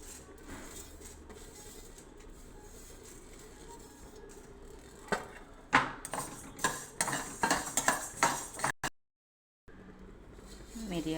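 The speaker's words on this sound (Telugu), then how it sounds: "ధనియాలు కూడా వేపేసుకుందాం బాగా" Coriander seeds being dry-roasted in a pan for sambar powder, with repeated scraping and stirring strokes against the metal, some louder clinks, a brief silent gap, and faint talk in the background.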